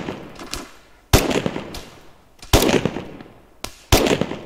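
Gunfire in the military video game Arma 3 rings out as three loud, sharp cracks spaced about a second and a half apart, each trailing off in a rolling echo, with fainter shots ticking in the background before them.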